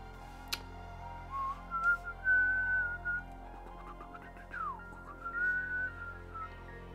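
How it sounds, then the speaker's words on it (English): A person whistles the Batman animated series theme, slow sustained melodic notes with short breaks between phrases, quiet and close over faint room noise. "Sorry, I'm whistling again."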